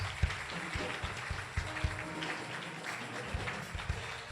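Church congregation clapping hands during a prophet's prayer service, scattered rhythmic claps and low thuds over a noisy, reverberant room hum, moderately loud and continuous for a few seconds.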